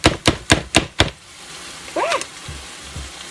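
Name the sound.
chopping portobello mushroom with a food chopper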